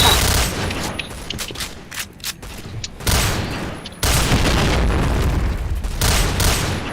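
Grenade blast and gunfire in the shooter Point Blank, loud bursts of rapid automatic fire broken by short pauses, with heavy booms near and continuous over several seconds.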